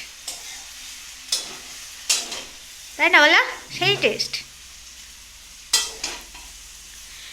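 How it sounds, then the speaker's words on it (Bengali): Chowmein fries in a hot pan with a constant sizzle and repeated scraping strokes of a spatula against the metal, while someone speaks briefly over the cooking. "তো চাউমিনটা দিয়ে এখন নাড়াছাড়া করবে"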